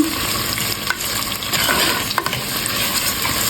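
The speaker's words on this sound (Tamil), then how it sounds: "பிறகு மிக்ஸ் பண்ணி போட்டு லைட்லி கோல்டன் ப்ரௌன் வர வரையும் வதங்க விடுவோம்" Onion, green chili and curry leaves sautéing in a pan for shrimp eggplant curry, with a steady close sizzle and frying hiss and occasional light stirring scrapes and clinks throughout.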